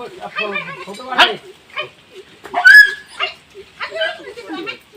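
A dog barks near a snake on a farm roadside, a few sharp close yelps and whines mixed in with people talking loudly nearby.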